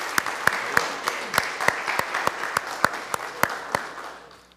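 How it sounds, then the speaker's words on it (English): Steady round of applause from a church congregation honoring adult volunteers who helped with Vacation Bible School, with a few sharp individual claps standing out, fading slightly toward the end. "So let's give all of our adults a round of applause if we could,"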